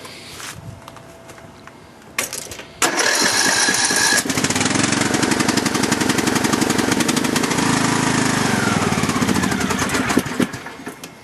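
An LT2000 lawn tractor's small engine cold-starts after a couple of brief cranking attempts, then catches and runs loud and steady at close range, with a rough, knocking mower-like chug throughout.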